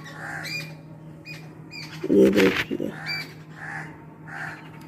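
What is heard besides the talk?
birds singing and crows cawing near a tree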